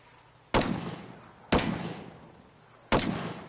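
Three sharp gunshots from a shooting course, spaced about a second apart, each loud and close with a decaying ring, no talking in between.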